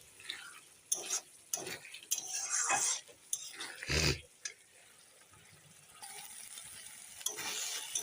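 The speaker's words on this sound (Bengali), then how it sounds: "চিনিটা দিয়ে নেড়ে দিলাম।" Spice masala with sugar is stirred in a pan, heard as scattered scrapes and metallic clinks of a spoon against the pan over a faint sizzle, fairly quiet and close, with no voices.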